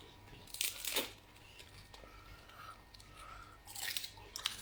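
A child bites into and crunches ice cream, giving bursts of crisp crunching and chewing near the mic around the first second and again near the end, with quieter mouth sounds between.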